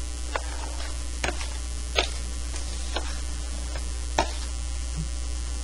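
Drywall mud compound being mixed with water, a steady wet churning hiss with soft scraping strokes recurring about once a second, close and moderately loud over a constant low hum.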